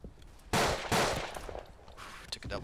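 Two loud, close rifle shots in quick succession in the World War I shooter Verdun, followed by quieter distant gunfire and rattling.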